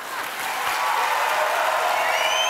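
Studio audience applause for a quiz contestant on a game show, loud and sustained. The clapping swells within the first half second and then holds steady to the end.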